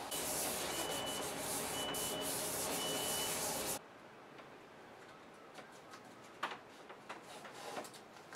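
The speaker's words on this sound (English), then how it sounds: "I'm going to sand it with 400" Sandpaper of 400 grit rubs steadily against a guitar headstock in a loud, continuous scratchy stroke that stops abruptly, leaving only faint scattered scuffs afterward.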